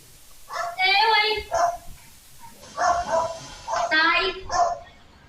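A dog caught on a home security camera barks and yips in loud, repeated bursts, close by, with short gaps between them.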